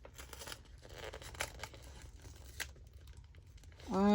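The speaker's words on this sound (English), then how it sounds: "I wonder if I could peel this up." A paper sticker being peeled up from a journal page, soft close crinkling and tearing rustles over a few seconds, ending in a sudden louder swelling noise.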